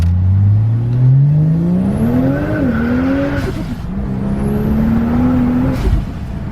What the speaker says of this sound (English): it has a little bit of flutter and a little bit of blow off, but I still don't like it